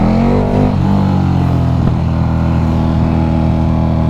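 A KTM RC8 motorcycle pulls hard in first gear, its engine note rising and shifting pitch steadily, loud and close throughout with a brief dip near the start.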